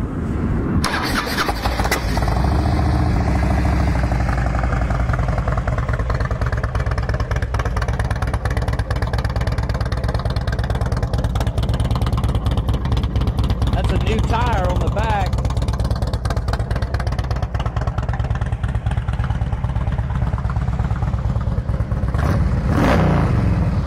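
A fuel-injected 2002 Harley-Davidson Road King Classic FLHRCI with about 25,000 miles fires up and settles into a steady, loud, rumbling idle nearby for a long stretch, with a brief voice near the end.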